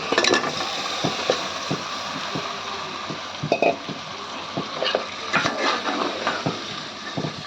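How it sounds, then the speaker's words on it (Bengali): Meat sautéing in a pan with spices, a spoon scraping and stirring in irregular strokes over a continuous sizzle, close and fairly loud, with occasional clinks against the pan and no talking. "মাংসটা কষানো হচ্ছে।"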